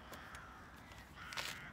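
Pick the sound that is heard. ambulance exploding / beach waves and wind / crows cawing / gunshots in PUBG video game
crows cawing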